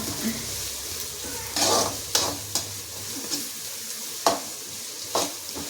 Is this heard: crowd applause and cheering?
no